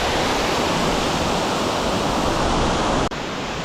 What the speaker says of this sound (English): We're all down here at the waterfall